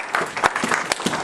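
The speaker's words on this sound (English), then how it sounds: "give God the loudest clap offering in the house of the Lord." A church congregation at a Filipino Christian worship service claps in a brisk burst of applause, with sharp, fairly close handclaps overlapping in a quick, uneven rhythm.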